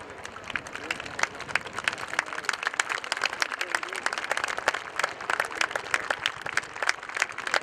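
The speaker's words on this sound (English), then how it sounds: "getting a big wave and a big cheer for the 2015 Royal Air Force Chinook display team" Crowd at the RIAT airshow at Fairford applauding and cheering for the Royal Air Force Chinook display team, steady rapid clapping from many hands, with a voice over the loudspeaker talking at times.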